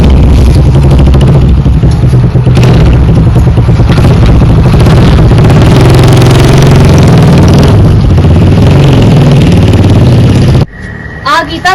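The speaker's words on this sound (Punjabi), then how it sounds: "ਚਲੋ ਮੈਂ ਬਾਈਕ ਮੋੜਨਾ ਚੱਲਦੇ ਆਪਾਂ" Motorcycle engine idling and revving loudly and close for about ten seconds, cutting off abruptly near the end, with voices underneath.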